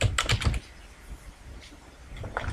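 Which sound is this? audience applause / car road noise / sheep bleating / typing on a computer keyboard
typing on a computer keyboard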